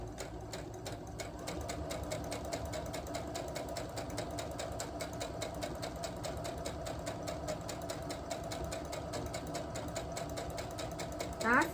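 Sewing machine stitching a small fabric pouch, a faint, continuous rapid needle rattle held steady at close range throughout.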